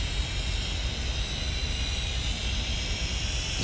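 Small camera drone in flight over a field at night, a steady close rotor whine and broadband hiss running continuously without pause, with no voices.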